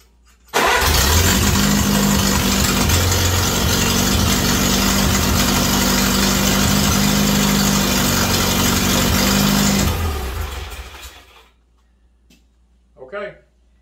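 A Farmall Cub tractor engine, newly converted from 6 to 12 volts, cranks briefly and catches, then runs loud and steady at idle for about nine seconds before shutting down, with a short burst of speech afterward.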